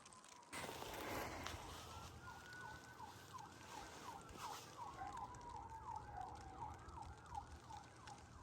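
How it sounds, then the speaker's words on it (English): An emergency siren wails outdoors, its rising and falling tone repeating steadily at a distance over a constant wind-like background hiss. "I hear sirens."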